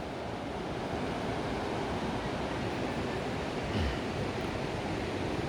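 A river near cabins in Vilcabamba, Ecuador rushes steadily, making a broad, constant wash of water noise, close and unbroken, with no talking.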